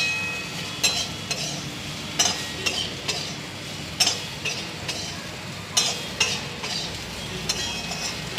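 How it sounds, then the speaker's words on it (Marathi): Vegetable pieces are sautéed in a hot pan with salt, a steady low sizzle broken by repeated sharp scrapes and clinks of a spoon stirring at irregular intervals, close up and without speech. "पुन्हा फोडी परतवून घ्यायच्या।"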